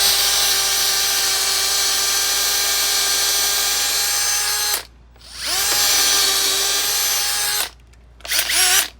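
A handheld electric drill whines at a steady high pitch for several seconds, cuts out briefly, spins up again, then stops and restarts in short bursts near the end, close and loud.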